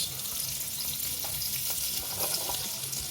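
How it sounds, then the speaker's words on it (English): Onions frying in a pot for fried rice give a steady, close sizzle with faint stirring scrapes, continuous and fairly even throughout with no talk. "So inside our pot, we'll be adding in onions to fry."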